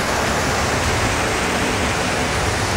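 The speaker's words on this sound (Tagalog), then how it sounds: "Ang ganda ng falls nyo." Pantihan Falls in Maragondon, Cavite roars nearby as a loud, unbroken wash of falling water with no other sounds.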